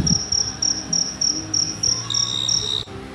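Crickets chirping in regular, evenly spaced high-pitched trills, close and clear, with a second cricket joining near the end before a brief cutoff.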